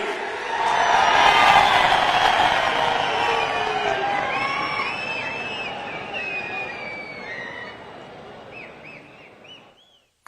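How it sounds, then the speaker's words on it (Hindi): A large crowd at a Prime Minister's inauguration event in Palli, Samba, Jammu and Kashmir cheers and whoops loudly with broadband roar, swelling early then slowly fading over about ten seconds, with some high whistles mixed in. "आपकी जोरदार तालियों के बीच"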